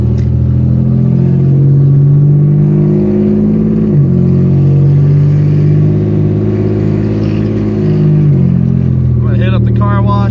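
A very loud car engine drones up close while driving through a suburban area, holding a steady throaty tone with shifts in pitch as it changes speed, and a voice briefly comes in at the end.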